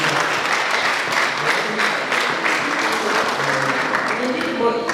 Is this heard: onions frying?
no